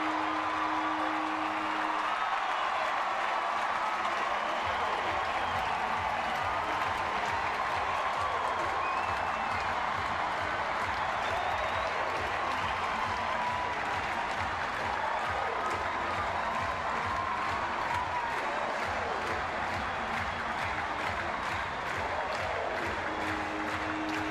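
A baseball crowd at a San Francisco Giants game roars and applauds after Brandon Crawford's walk-off home run, a sustained dense wall of cheering and clapping that stays loud throughout.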